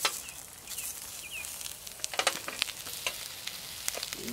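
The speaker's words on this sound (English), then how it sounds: "Nice slow motion on the sizzling" Steady crackling sizzle of bread frying in a pan, with sharp pops and spatters scattered through, close up and without talk.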